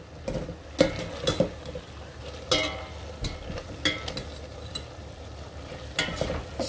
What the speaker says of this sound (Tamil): இப்போ நம்ம கலக்கிட்டுருக்கோம் நம்மளோட புளி காய்ச்சல்